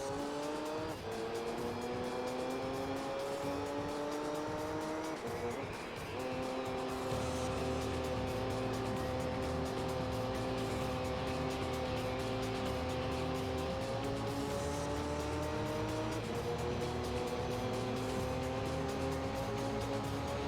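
The LMP Dragon race car in Gran Turismo 3 holds a loud, high-revving engine drone. Pitch climbs steadily through repeated upshifts, with brief dips between gears, running continuously without talk.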